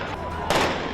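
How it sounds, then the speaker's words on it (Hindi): Fireworks bursting in the sky above a street during a protest: a short, sharp explosive crack halfway through, over a noisy background. "इसके बाद तो बीच सड़क पर आसमान में आतिशबाजी होती नजर आई।"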